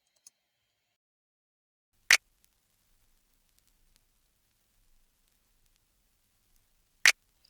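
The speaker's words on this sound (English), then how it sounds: "So the snap sounds like this." A snap sample from a 2000s R&B beat built in FL Studio, two sharp, crisp snaps, loud and dry, spaced about five seconds apart with near silence between them.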